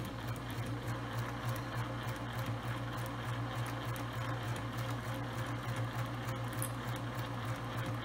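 A sewing machine runs steadily while stitching a zipper tote, a continuous close hum with a fast regular needle chatter that holds at an even level throughout, no voices.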